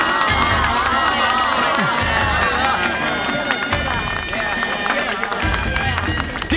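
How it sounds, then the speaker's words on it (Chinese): A crowd at a plaque-unveiling ceremony in a period comedy claps and cheers loudly and continuously, with shouts and babble mixed into the steady applause. "大家鼓掌。"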